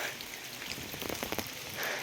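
Rain falling in the dark, a soft steady patter of drops hitting surfaces, faint and even throughout, with no voices.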